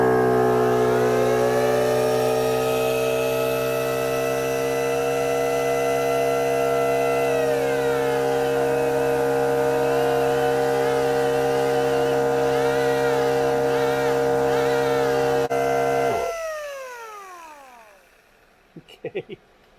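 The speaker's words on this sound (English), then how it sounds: "Little angle die grinder first." A high-pitched air-powered angle die grinder whines steadily for many seconds, then spins down to silence, followed by a few faint clicks.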